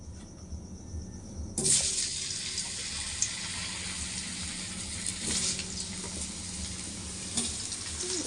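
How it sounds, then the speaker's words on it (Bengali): Potatoes frying in hot oil for a rohu fish curry, a steady broadband hiss with a brief quieter start, then constant sizzling and a few small pops and clatters, close and fairly loud with no talk. "এখন আলুগুলো একটু ভেজে নিই"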